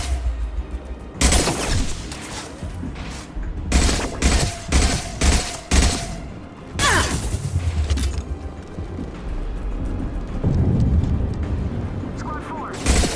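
Heavy gunfire crackles through Mass Effect 2 combat, with loud rapid bursts of automatic fire and sharp shots over a rumbling battle din, while voices shout beneath the shooting.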